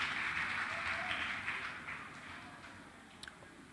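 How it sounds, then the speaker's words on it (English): Applause from the audience at a secondary school agricultural debate, a sustained wash of clapping that slowly fades over a few seconds. "Another round of applause. Let's cheer them on."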